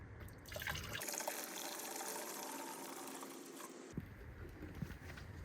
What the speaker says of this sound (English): So now I've got this filled with water. Mix it in the bucket